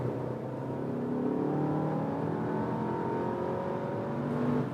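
A car accelerates on the Autobahn from about 60 to 110 km/h, heard from inside as a steady, loud engine drone with a slowly climbing pitch, no talking.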